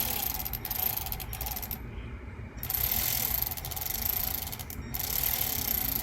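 Ratchet loosening bolts on a Chevrolet Sonic during a fog light installation, a continuous close whirring, clicking mechanical sound with two short pauses.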